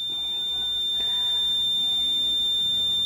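A Fieldpiece multimeter sounds its continuity beep while HVAC components are tested: a single high, steady electronic tone that holds unbroken throughout, with faint handling noise underneath.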